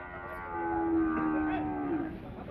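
Cattle low at a Friday bullock market in Adoni, with one long, loud, close moo that holds steady for about two seconds before trailing off.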